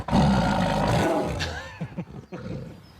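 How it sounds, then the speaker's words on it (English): A female Amur tiger gives a loud, deep roar that swells and trails into lower growling grunts, close and alone. "And this magnificent Amur tiger called Ronger"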